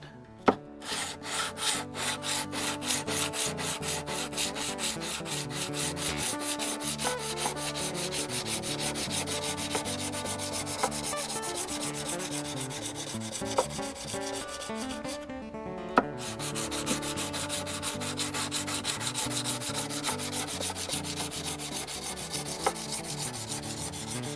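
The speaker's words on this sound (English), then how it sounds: "so we are using the sanding paper" Continuous rough scraping of sandpaper rubbing against the frets of a Takamine guitar, steady back-and-forth strokes close up with a short pause near the middle.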